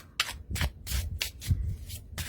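Tarot cards shuffled by hand in short repeated bursts of riffling and rubbing, each burst separated by a brief pause, close and fairly quiet with no talk.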